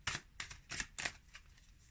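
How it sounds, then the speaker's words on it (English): Oracle cards are shuffled by hand at close range in a few quick riffling bursts with short pauses, soft and papery, with no talking. "Okay, let's pull some oracle cards."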